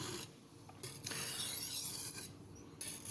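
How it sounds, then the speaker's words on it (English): A simple carbon steel kitchen knife is drawn in repeated rasping strokes across a medium India sharpening stone, close and steady with short pauses between passes. "just minimizing it with these final strokes on the medium India"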